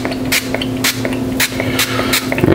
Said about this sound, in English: So I'm gonna try it with this 0-calorie butter spray, and let's hope it works.